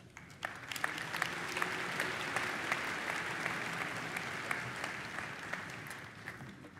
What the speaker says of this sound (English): Can we give one more round of applause for those students?